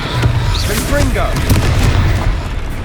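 A Confringo fire spell in the Hogwarts Legacy video game bursts with a loud, booming explosion amid continuous battle noise, while a voice talks over the action.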